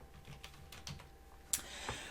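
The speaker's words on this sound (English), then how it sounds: "and so as I start typing" Typing on a computer keyboard while entering a browser name on an Ubuntu GNOME 16.04 desktop, with a run of soft, close key clicks followed by a couple of sharper, louder taps near the end.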